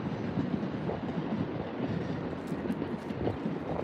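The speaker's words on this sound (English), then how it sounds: "This is the Narita Express popping through." The Narita Express train rolls past near Tokyo Station, a continuous low rumble with faint rhythmic clatter of wheels over rail joints, heard from a distance with some wind noise.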